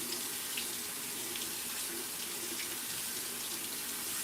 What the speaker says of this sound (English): I've never rinsed beans before.